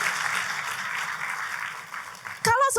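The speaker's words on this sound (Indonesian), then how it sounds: "tepuk tangannya boleh yang paling meriah" A congregation at a church service applauds in a steady, moderate wash of clapping that tapers off before a voice begins speaking at the very end.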